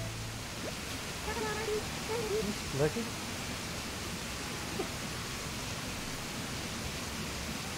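The waterfall in the video game Animal Crossing New Horizons gives a steady, even rushing wash throughout, with a voice speaking briefly over it near the start.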